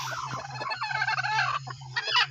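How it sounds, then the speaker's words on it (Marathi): A hen being picked up for setting on eggs clucks and squawks repeatedly and loudly up close, agitated calls in quick succession over a steady low hum. "चला तर आपण कोंबडी घेऊया."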